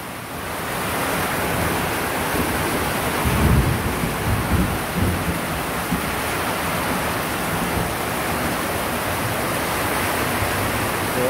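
Heavy rain pours down in a strong wind as a thunderstorm passes, a dense constant roar with a low rumble of thunder around the middle, no voices.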